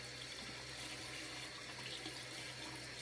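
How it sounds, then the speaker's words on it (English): Hot shower water runs steadily in a bathroom, a constant close hiss of spray with no break. "So I'm gonna hop in the shower."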